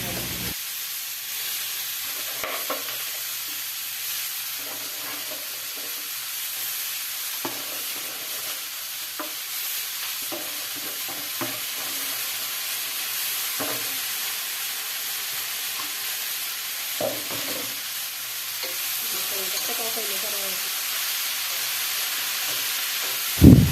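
Vegetables stir-fry in oil with onion, garlic and green chili, producing a continuous hissing sizzle throughout, broken by occasional scraping stirs and spatula clicks, plus one sharp knock at the very end.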